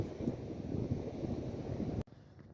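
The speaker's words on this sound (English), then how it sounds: "it's real windy" Strong wind buffets the microphone on a beach after a big storm, a steady loud roar that cuts off abruptly near the end.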